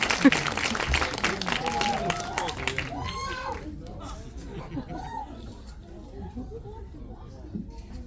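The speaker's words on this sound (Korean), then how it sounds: "큰 박수 부탁드릴게요" Audience applause at a film talk event, brisk crowd clapping for the first few seconds that quickly dies away, leaving murmuring voices and room noise behind.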